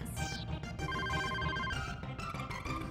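A phone rings in the video game Mischief Makers as a bright electronic ringtone of repeated chiming tones over busy game music, loud and continuous.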